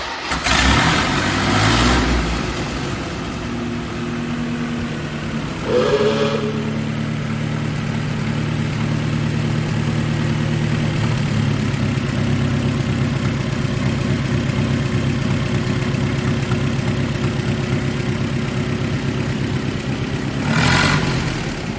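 A classic car engine started on its factory ignition cranks briefly, catches with a burst, then settles into a steady, loud, close idle, with a short rev around the middle and another near the end; no talking.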